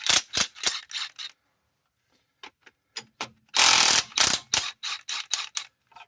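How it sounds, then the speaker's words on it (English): A pneumatic air impact gun removing bolts from a Dodge 5.2 or 5.9 engine rattles in loud, rapid hammering bursts, a cluster at first, then a pause, then longer bursts and shorter blips, close by. "I'm going to go with the air gun all fired up"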